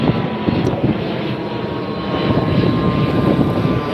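A Delta airliner departing LAX roars past, a loud, broad jet engine rumble that swells slightly over four seconds, heard outdoors from a beach with no talk.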